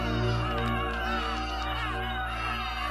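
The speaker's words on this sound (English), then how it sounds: "This time she sent her pet crows after us." A flock of crows caws loudly and repeatedly in a cartoon scene from The Wonderful Wizard of Oz, the harsh calls layered over a steady music score.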